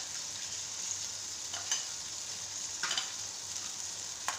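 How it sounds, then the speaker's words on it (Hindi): Masala with turmeric fries for kadhi pakora, giving a soft, steady sizzle close up, with a few faint stirring scrapes coming and going and no voices. "इसको तकरीबन 12-13 मिनट तक इसको ना भूनना है"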